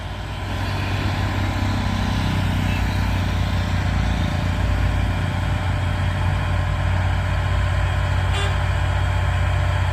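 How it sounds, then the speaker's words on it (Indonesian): A convoy of heavy trailer trucks with diesel engines rolls past on a winding hill road at night, a steady loud low rumble of engines filling the whole stretch without a break. "Kompoy bosku, truk-truk trailer."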